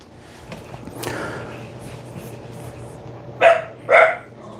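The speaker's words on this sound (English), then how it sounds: "What are you barking about?" A dog gives two loud, close barks near the end after a stretch of quieter room noise.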